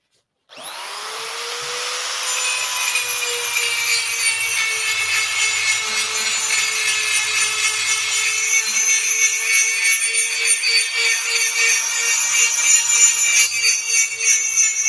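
A tungsten carbide cutter grinds a radius into a metal part, giving a continuous high, whining rasp that starts abruptly and holds steady and loud for the whole stretch, with no voices over it.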